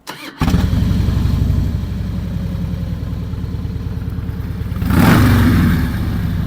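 A 2003 Harley-Davidson Softail FXSTD, fuel-injected, cranks over and catches, settling into a loud, close, lumpy idle with a steady pulsing beat, then swelling briefly with a blip of the throttle before easing back down.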